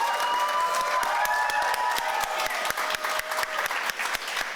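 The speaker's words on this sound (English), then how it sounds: "Please give another round of applause" A community poetry night audience gives another round of applause, a steady wash of many hands clapping with a few distinct sharp claps standing out, a faint voice or cheer briefly audible early on.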